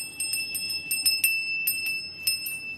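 A child rings a small brass puja bell during worship at a home shrine, its bright metallic clangs arriving in uneven, rapid bursts with lingering high overtones and no talking.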